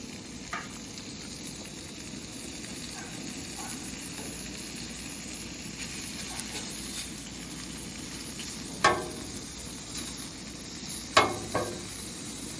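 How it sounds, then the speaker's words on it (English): Bacon fries on a Blackstone griddle outdoors at a state park, a soft steady sizzle and crackle with occasional sharper spatula clinks and pops, fairly quiet and uninterrupted by speech. "We get the bacon spread out here and let the grease begin to render down some"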